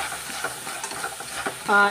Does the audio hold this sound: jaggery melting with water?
yes